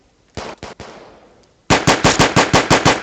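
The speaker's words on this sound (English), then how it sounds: "I'm gonna get the AK. Come on, AK!" An AK rifle in a video game fires two short bursts, then a rapid string of about eight sharp, loud shots in steady rhythm, each with a short decaying tail, close up and with no talk over them.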